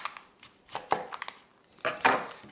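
A knife slices the tip and root off an onion on a cutting board: a handful of quiet, crisp cuts and board taps in uneven rhythm, close by, with no voices.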